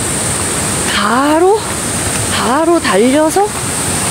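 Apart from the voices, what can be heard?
waterfall at a valley with seven connected falls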